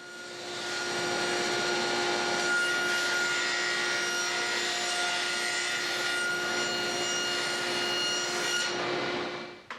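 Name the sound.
sawing a piece of 1/2-inch plywood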